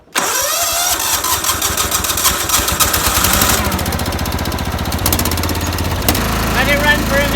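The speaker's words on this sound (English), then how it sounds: "I wonder if I can start it back up again." A GT225 lawn tractor engine cranks and catches almost at once, then settles into a loud, steady, throbbing mid-pitched idle that keeps running close by, with a brief change in tone near the end.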